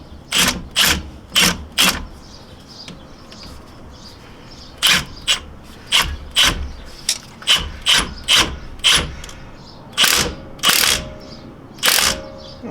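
A ratchet tightens the sway bar link nut on a 2009 Ford Ranger in a series of sharp, close clicking strokes in short bursts with brief pauses between.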